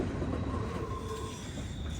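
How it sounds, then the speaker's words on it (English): A southbound BNSF freight train, number 265, rolls past on the Greenville district near Easley, South Carolina, a steady continuous roar of wheels on rail with faint squealing tones, sustained and fairly close. "Train 265, southbound BNSF through power bound for Atlanta"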